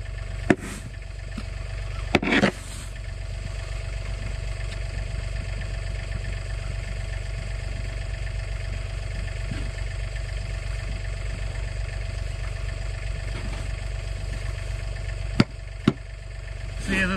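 A John Deere 3046R compact tractor engine runs steadily with its snow blower attached, a constant low idle-like drone throughout, with a few brief knocks and clunks near the start and end.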